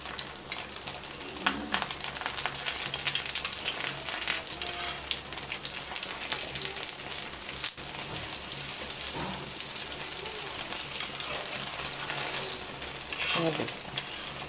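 An egg fries in a pan for a paratha meal, giving a continuous crackling sizzle with scattered spatters and occasional scraping from a utensil, close and fairly loud throughout.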